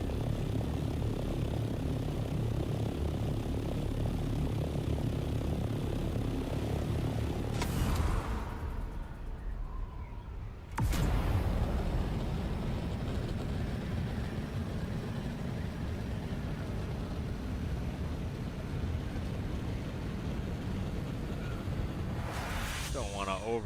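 A vehicle engine in the game Dune Awakening drones continuously, a loud, steady propeller-like hum that cuts out briefly midway and then resumes, with a voice speaking over it at times.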